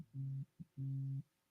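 A telephone busy-style tone sounds from a phone as an incoming call: two steady electronic beeps with a brief blip between, clear and alone with no talking.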